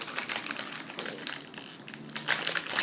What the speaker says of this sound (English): We're going to make a little cut, and then it should open much easier.